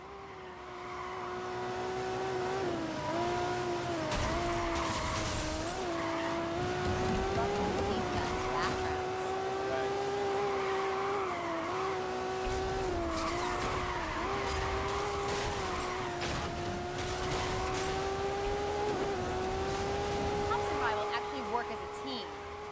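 Racing cars in PlayStation video game gameplay roar continuously with wavering engine pitch and occasional tire squeals, loud and sustained, with faint talk in the background.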